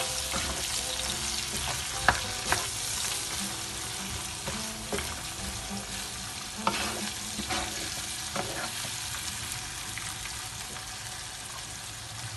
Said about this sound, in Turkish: karıştırıyoruz tekrar